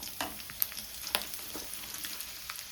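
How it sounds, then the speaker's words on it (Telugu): Tempering seeds and dried red chillies crackle in hot oil, a steady low sizzle broken by a few sharp pops and spits, heard close up with no voices. "దీనిలో తాలింపు గింజలు, ఎండుమిరపకాయలు."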